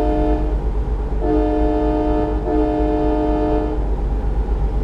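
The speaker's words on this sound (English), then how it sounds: "That does sound like a train horn." Truck air horn in the American Truck Simulator video game, blasting three sustained train-like chords in a row over a constant low engine rumble, loud and close with no talking.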